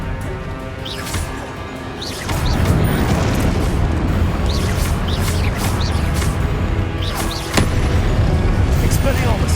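Confringo spell explosions in Hogwarts Legacy, loud booming blasts that hit repeatedly over a dense bed of combat noise and game sound.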